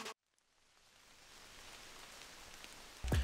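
Steady outdoor rain hisses as a soft, even wash of noise that slowly builds in loudness, with a brief louder clatter near the end.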